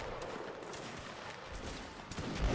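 Musket volleys crackle in a Napoleonic Wars line battle video game, a dense, continuous fusillade of overlapping shots at moderate distance, rising slightly toward the end.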